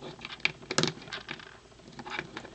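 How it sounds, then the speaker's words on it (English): A Revoltech Megatron Transformers toy figure's ratchet joint gives a quick series of small, sharp plastic clicks, close and fairly quiet, in irregular bursts with no voices. "Hear those clicking sounds, that's the joint."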